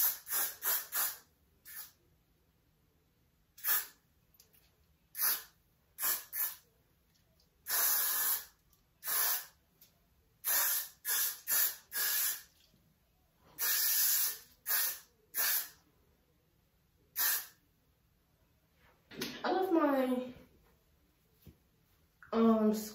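Got2b Glue hair spray sprayed onto edges and a ponytail in a series of short, sharp hissing bursts, close and loud, some quick and some held longer, separated by quiet gaps, followed by a brief voice near the end.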